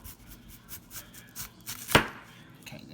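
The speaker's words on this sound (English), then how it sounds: "Let me cut this first slice down." A knife slices through an onion on a cutting board, with soft scraping and light taps building to one sharp, distinct chop near the middle, close and fairly quiet.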